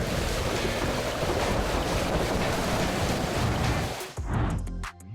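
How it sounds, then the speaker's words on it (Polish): Loud, steady roaring wind with a dense rushing wash like heavy rain, close and constant, cutting off abruptly near the end. "Wiatr wzmagał się coraz bardziej i zaczęła się wielka ulewa."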